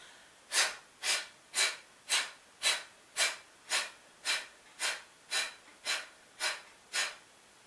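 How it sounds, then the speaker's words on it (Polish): A diaphragmatic breathing exercise on the letter F: about thirteen short, forceful breathy exhalations in a steady rhythm, roughly two per second, close and clear with no talking. "To jest ten oddech przeponowy."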